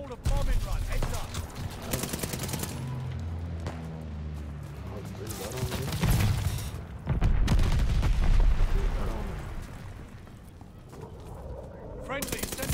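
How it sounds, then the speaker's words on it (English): Bombing run in the Call of Duty: Vanguard video game, a loud barrage of rapid gunfire and deep explosive booms rolling over several seconds, with a voice speaking over the battle noise. "Teammate called a bombing run."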